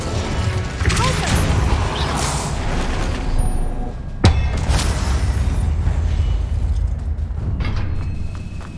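Spell effects from a magic duel in the Hogwarts Legacy video game, with a sharp, loud burst cracking out midway over a dense, continuous rumble of mechanical and crashing game sounds.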